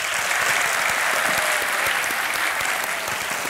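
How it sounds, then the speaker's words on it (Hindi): Studio audience at a televised quiz show breaks into sustained applause, a dense, even wash of many hands clapping at steady loudness throughout. "ताली बजती रहे इनके लिए।"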